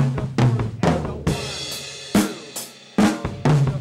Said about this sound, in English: Now many times we'll actually use a crash cymbal on the 1 as we begin our new measure.